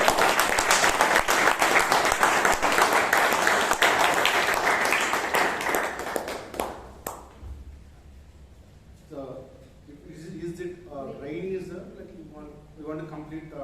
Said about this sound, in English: let's give one more round of applause to our guests